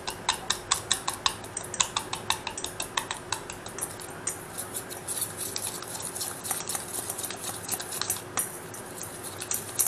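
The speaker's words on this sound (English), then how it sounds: "you're just going to whisk this all together" A whisk clatters quickly against a bowl, mixing ingredients for a southwest four-bean chili, making a close, steady run of rhythmic metallic ticks and scrapes with no talking.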